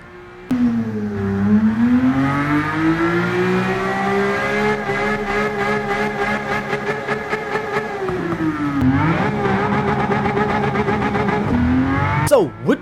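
RUF RGT 4.2 flat-six engine in Gran Turismo 7, revving up to a high wail and falling back through gear changes, then climbing again to a loud crescendo before cutting off.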